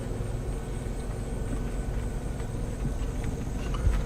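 A 1999 all-wheel-drive Caravan coasts slowly over gravel, its tires giving a steady low crunching rumble. The rumble is close and continuous, with faint road hiss above it.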